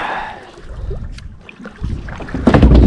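Kayak paddle sweeping through water in long turning strokes, with splashy washes building louder toward the end over light wind on the microphone, close by.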